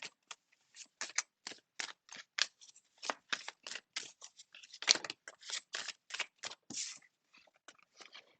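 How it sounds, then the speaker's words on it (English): A deck of tarot cards being shuffled by hand, a long run of crisp riffling snaps and slaps in irregular bursts, close and fairly quiet. "let's just give it a quick shuffle"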